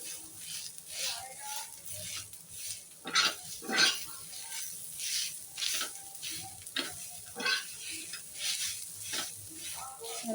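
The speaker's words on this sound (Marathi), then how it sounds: "तर आपला आता कांदा थोडासा लालसर भाजत आलेला आहे" Onion frying in a pan until reddish for chicken curry makes a soft sizzle with repeated scraping stirs, fairly quiet and heard under a person talking.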